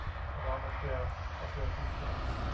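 Low, steady engine drone of a small airplane taking off for a parachute jump, fairly faint and distant, a continuous rumble under light background noise.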